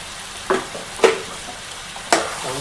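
Tomatoes frying in oil with potatoes and drumsticks, a low steady sizzle broken by three short stirring scrapes against the pan, close and with no talking.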